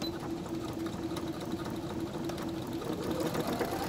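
A sewing machine runs steadily while back tacking fabric, a close, even mechanical whir with a rapid stitching rhythm that holds for several seconds.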